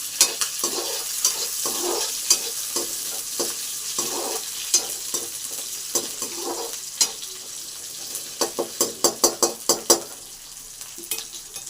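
Onion, green chili and curry leaves fry in hot oil in a village kitchen pan, a steady sizzle broken by scraping stirs that grow into quick, sharp clacks near the end, close and fairly loud with no talk.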